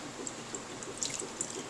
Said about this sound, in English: pouring the broth